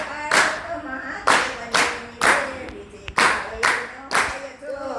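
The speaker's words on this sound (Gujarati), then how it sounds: "તાળી પાડો તો" Rhythmic hand clapping keeping time with a devotional Shiva bhajan, seven sharp, evenly spaced claps over about five seconds, close and loud, with sung voices faintly underneath.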